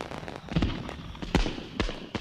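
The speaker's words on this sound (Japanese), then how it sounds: "ここで花火なんて、いいタイミングだよな" Fireworks explode over a dinosaur-themed amusement park in the anime Dinosaur King, heard from a Ferris wheel: a few muffled, irregular booms and crackles at moderate distance.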